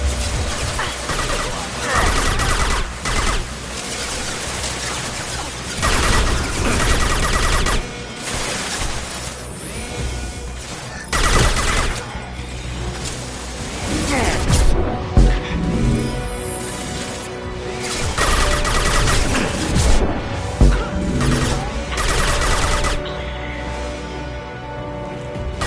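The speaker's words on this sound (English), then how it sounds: "Taking heavy fire." Heavy sustained gunfire in a Mass Effect battle, dense bursts and impacts crashing continuously for the whole stretch, loud and close, with voices speaking intermittently beneath the barrage.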